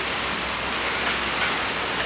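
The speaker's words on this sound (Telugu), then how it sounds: "బయట అయితే వర్షం బాగా కొడుతుందండి" Heavy rain pours down outside as a steady, dense hiss with no breaks, loud and even throughout, heard from inside a home kitchen.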